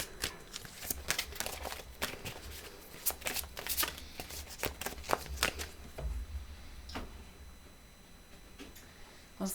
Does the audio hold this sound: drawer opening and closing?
no